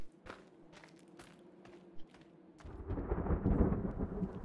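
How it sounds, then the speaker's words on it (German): Thunderstorm in the video game The Forest: footsteps crunch at first, then a deep rolling rumble of thunder swells and lingers loudly under the scene, with no talking. "Außer Gewitter natürlich."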